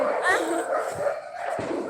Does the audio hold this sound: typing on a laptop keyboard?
no